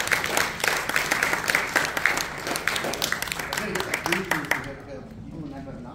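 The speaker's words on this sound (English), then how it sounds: "can we give another round of applause?" A church congregation claps in a dense, steady round of applause for about four and a half seconds after a long scripture reading, then it fades into quieter murmuring.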